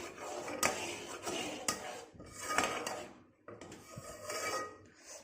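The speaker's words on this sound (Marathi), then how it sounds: "सतत ढवळत राहायचं जेणेकरून आलेली साय बाजूला राहील" Milk being stirred in a metal pan while boiling down for rabdi, with repeated scraping and clinking of a spoon against the pan in steady strokes, close and moderately loud, with no talking.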